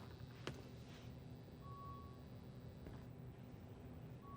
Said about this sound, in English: Somewhere out there is like an EKG beeping.